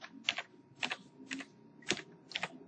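Short bursts of keystrokes on a computer keyboard while entering a word in Microsoft Word 2013, five quick clusters of clicks spaced about half a second apart, close and fairly quiet.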